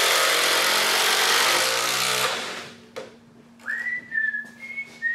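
Makita XDT15 and DeWalt DCD809 compact impact drivers running side by side in a race test: a loud, dense buzzing clatter that cuts off after about two seconds, followed by faint clicks and thin whistling tones.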